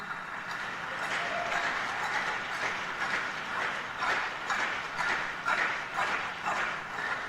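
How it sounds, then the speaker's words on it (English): Audience members clap in an auditorium at the Maritime Academy of Nigeria cadets' graduation ceremony, a fairly quiet, steady wash of applause with no voices over it. "Can we clap for the Rear Admiral Akpan and Dr. Kevin O'Connor?"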